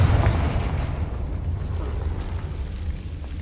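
A Confringo blasting spell explosion in the video game Hogwarts Legacy, a loud deep boom that rolls off into a low rumbling decay.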